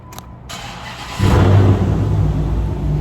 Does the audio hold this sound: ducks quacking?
no